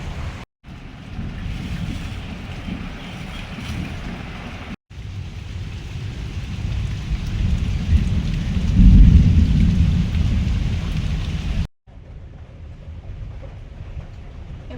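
Heavy rain pours down with rolling thunder, a loud, broad roar that swells into a stronger rumble partway through before easing, with only brief gaps.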